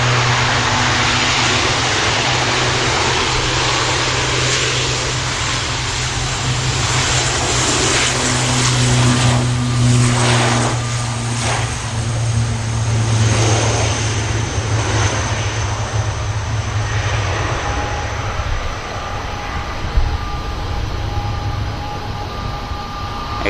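An ATR turboprop departs Manchester Airport for the Isle of Man, its propeller drone a sustained, fairly loud hum with a low steady tone and a gradual swell and fade over many seconds.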